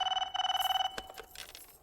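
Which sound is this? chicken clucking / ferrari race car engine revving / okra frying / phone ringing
phone ringing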